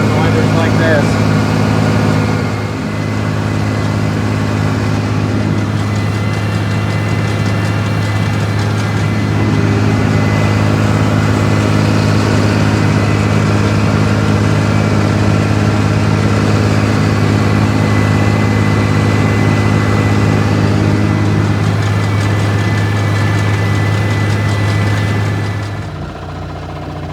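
Open cab tractor on a farm, its engine running at a steady idle with a strong, constant low drone and vibration for nearly half a minute, loud and close, before it cuts out at the end.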